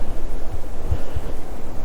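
Strong winter wind sweeps across a frozen lake during ice fishing, a steady breathy rush with low buffeting thumps against the microphone, heard alone.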